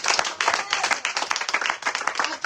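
A church congregation claps loudly and continuously, with dense overlapping applause and scattered cheering filling the room throughout.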